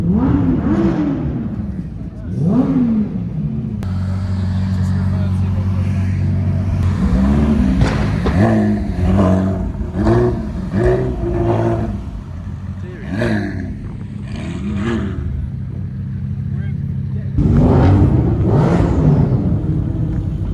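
Porsche Cayman GTS 4.0 flat-six revving hard after a three-gear downshift, loud and close, with repeated rising blips and a sustained roar, a voice talking over it at times.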